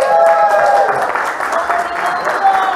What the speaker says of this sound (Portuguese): palmas para a Margarida, em nome de Deus.